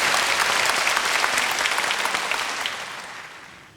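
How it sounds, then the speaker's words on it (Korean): A studio audience at a Korean television holiday special claps to welcome a guest, a dense, loud burst of applause that holds steady and then gradually fades toward the end. "여러분 큰 박수로 맞아주십시오"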